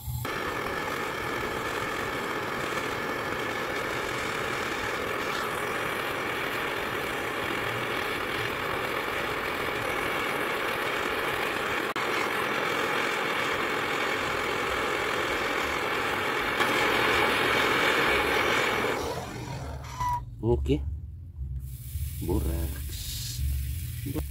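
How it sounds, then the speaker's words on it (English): A MAPP gas torch burns to melt metal during gold refining, a steady close roaring hiss that holds for about twenty seconds and then cuts off, leaving quieter clatter and background noise. "okay fire to our MAPP gas"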